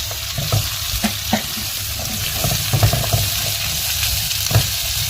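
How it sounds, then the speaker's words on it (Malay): Steady sizzling of pineapple frying in a pan, with scattered stirring clicks and scrapes, close and continuous, no voices. "kita masukkan pula nenas kita goreng ni semua"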